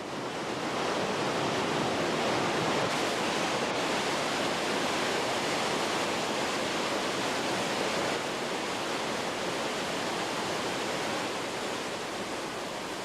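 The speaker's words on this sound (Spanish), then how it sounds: "el río da lugar a cataratas consideradas como las más poderosas de Europa y las más espectaculares de los Alpes" The Krimml Waterfalls in the Austrian Alps, a series of three drops totaling about 480 metres, thunder in a dense, unbroken roar of falling water heard steadily throughout, loud and enveloping with no voices.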